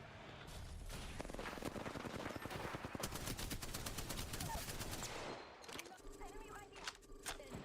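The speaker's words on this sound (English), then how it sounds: "They're shooting at me." Gunfire in Apex Legends: rapid automatic bursts, loud and continuous for about five seconds, then a few scattered shots over game effects.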